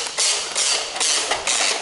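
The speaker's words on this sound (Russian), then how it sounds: "трещотка срабатывает" A retractable air hose reel's ratchet makes a rhythmic series of clicking, whirring pulses, about four to five close, loud bursts as the hose is pulled.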